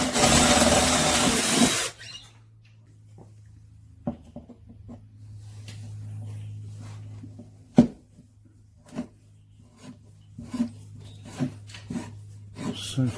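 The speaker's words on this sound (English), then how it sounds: "I'm kind of going to commit now and start drilling holes." A harsh, loud burst of power drilling into the body of a 1996 Ford EL Falcon wagon for about two seconds, then a low steady hum with scattered clicks and taps.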